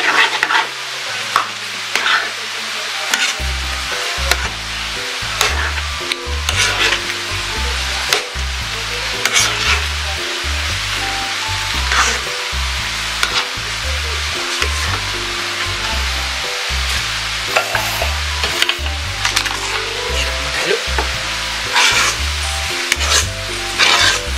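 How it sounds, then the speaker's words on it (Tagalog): Thick maja blanca mixture stirred continuously in a pot over the heat, with steady, repetitive scraping and a soft bubbling sizzle running throughout, close and fairly loud. "continuous stirring lang guys. Kasi mabilis talaga siyang magtigas."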